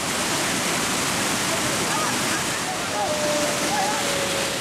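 A waterfall roars as a dense, constant rush of falling water close by, loud and unbroken throughout.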